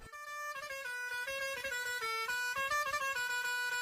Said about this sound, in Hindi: जब कोई गाड़ी हॉर्न बजाते हुए स्पीड में तुम्हारे पास आती है तो तुम्हें हॉर्न की आवाज हाई पिच में सुनाई देती है